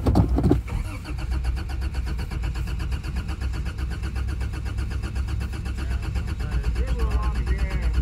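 A used car engine on a cold day cranks and catches within the first second, then settles into a steady, close running idle that holds to the end, with a little speech in the background.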